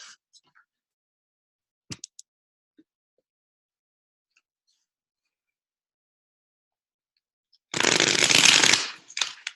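Golden Universal tarot cards are shuffled in one dense, riffling burst lasting about a second and a half, close and fairly loud, after a stretch of near silence broken by a few soft taps.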